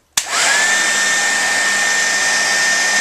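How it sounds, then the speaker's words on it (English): A Fred Meyer hairdryer on its highest heat setting clicks on and then runs as a loud, steady whoosh with a constant whine that holds for the rest of the clip. "So, just going to use this Fred Meyer hairdryer."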